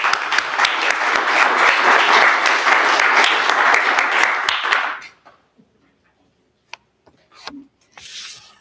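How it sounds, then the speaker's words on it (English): Audience applause at a county treatment court graduation, a dense sustained round of clapping for about five seconds that stops abruptly, followed by quiet with a few faint thumps and rustles. "Let's give Paula a round of applause."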